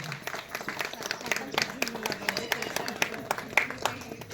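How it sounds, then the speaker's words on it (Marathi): Women applauding at a Haldi Kumkum gathering for Makar Sankranti, a crowd of hands clapping in uneven bursts, fairly close, with talk and murmuring running underneath. "सर्वांसाठी एक जोरात टाळ्या वाजवा"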